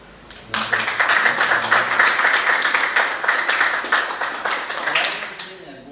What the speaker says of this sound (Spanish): Voy a pedir entonces un aplauso